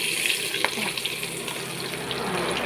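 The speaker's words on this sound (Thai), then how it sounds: "ทอดปลาทูนะคะ" Mackerel fries in hot oil, giving a dense, bright, continuous hiss with a few small crackles, close and fairly loud throughout.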